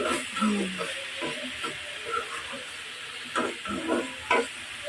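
Bitter gourd stir-fried in a wok, with a soft sizzle under repeated scraping and stirring strokes that come in short irregular bursts, close and without speech.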